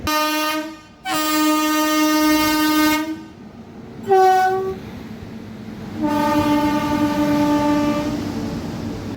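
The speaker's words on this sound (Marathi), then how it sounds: "आपली गाडी खूप वेळ झालं किनवट रेल्वे स्टेशनवरच उभी आहे" The Nanded–Adilabad Intercity Express, standing at Kinvat railway station during heavy rain, sounds its horn in three loud, tonal blasts: a long one, a short one, then another long one, with no talk.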